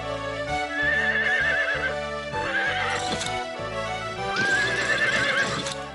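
A horse named Stalin, being prepared for shoeing, whinnies twice in long, wavering calls while its hooves clip-clop steadily nearby, with no talking.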